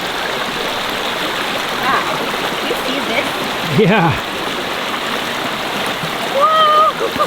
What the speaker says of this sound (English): Our stream is like a river right now, almost raging.